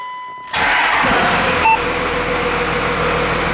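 A 2000 Dodge car engine cranks briefly and catches, then settles into a steady, loud idle close by.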